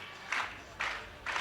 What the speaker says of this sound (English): the crowd are waking up. Bit of like clapping